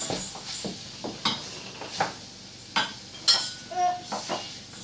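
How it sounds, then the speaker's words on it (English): Buckwheat being stirred in a pot, a series of short scraping and knocking strokes against the pot that come and go in an uneven rhythm, fairly close and with no talking. "Give it a really good stir."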